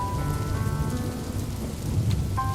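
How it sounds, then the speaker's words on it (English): Steady rain drumming on a solid tin roof over an undercover car park in the video game Longer Roads 3, a constant close patter with a faint low rumble and a soft tonal hum. "The rain scatters on the solid tin roof as we both begin drying ourselves off."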